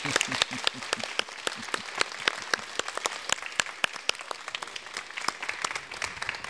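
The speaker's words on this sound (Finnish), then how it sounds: "läpsyttämällä käsiä yhteen." An audience at a Finnish public lecture applauds, with dense, even hand clapping from many people filling the room at a moderate level.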